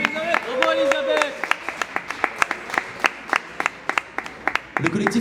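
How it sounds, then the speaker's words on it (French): A Fête de la musique audience applauds young singer Elisabeth, rhythmic claps that start under a speaking voice and then continue as a steady beat. "On peut l'applaudir, s'il vous plaît, juste ici. Bravo, Elisabeth."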